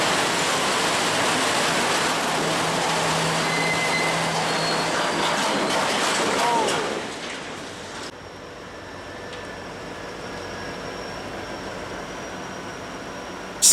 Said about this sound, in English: Check out this footage of a train derailing for unknown reasons in Missouri.